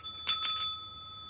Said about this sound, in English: I'll get my bell, shall I?